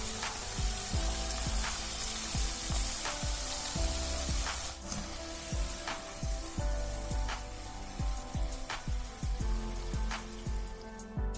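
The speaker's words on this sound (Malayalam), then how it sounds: "ഇനി ഇതിലോട്ട് ബാക്കിയുള്ളതും കൂടി നമുക്കിതുപോലെ ഫ്രൈ ചെയ്തെടുക്കാം." Potato chips deep frying in oil, a loud dense bubbling sizzle with rapid crackling pops spread across the whole stretch, close and continuous, without voices.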